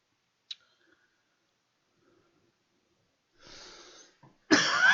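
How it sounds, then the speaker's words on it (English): After near silence with a faint click, a raspy exhale and then a harsh, loud cough burst out close by. "Oh, I can't stop coughing."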